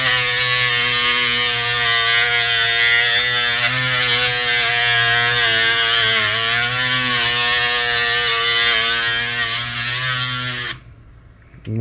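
A handheld drill drilling out a center rivet whines steadily at close range for about ten seconds, its pitch dipping and wavering slightly under load, before cutting off abruptly.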